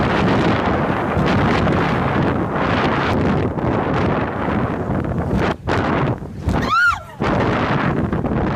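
A speedboat pounds across rough open water near Phuket. Heavy wind roar and engine rumble fill the clip, with brief sharp dropouts and a crackling burst near the end, loud and close.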